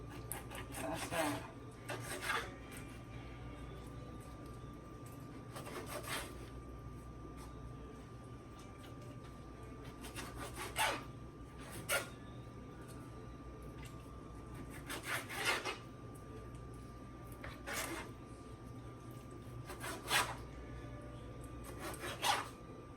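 A knife cuts chicken into small chunks for a stir fry, giving repeated soft chops and scrapes against a board at irregular intervals, fairly faint over a low background hum.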